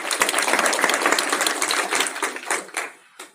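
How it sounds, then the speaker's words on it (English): A burst of applause from a live seminar audience for a teacher, dense clapping that holds strong for a few seconds, then thins out and trails off to a few last claps. "Give her a round of applause"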